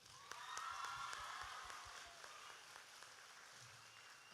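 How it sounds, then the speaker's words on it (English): An audience applauding at a school multicultural ceremony, heard as faint, distant, steady clapping that fades slightly toward the end. "I feel like that deserves another round of applause."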